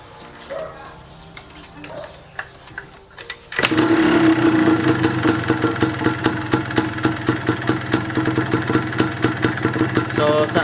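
A Yamaha DT125 motorcycle engine catches after a quiet start and settles into a close, loud, rapid rhythmic two-stroke idle that keeps going to the end, with faint voices underneath.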